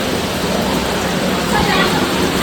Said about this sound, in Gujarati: અત્યારે ચાલુ છે જબરજસ્ત વરસાદ.